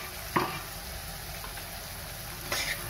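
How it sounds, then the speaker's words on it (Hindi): Tomatoes cooking in a pan make a constant close sizzle, broken by two brief scrapes of a spoon as they are stirred. "टमाटर को इस तरह से चलाते हुए अच्छे से पका लेंगे"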